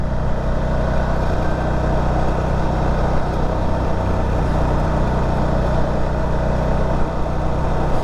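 A 2012 Can-Am Spyder RT-S engine running with a loud, steady, buzzy drone and constant low rumble throughout, with no talk.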